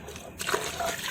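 Coconut milk powder mixed in hot water being poured from a measuring glass onto basmati rice for chicken biryani, a short wet splashing pour that swells after a brief lead-in.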